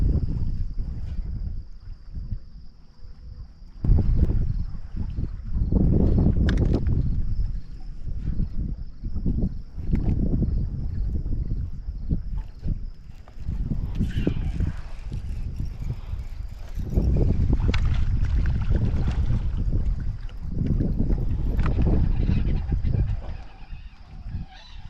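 Wind buffeting over a fishing boat on the Columbia River, a loud low rumbling roar in gusts that swell and ease throughout, with a faint steady tone above it.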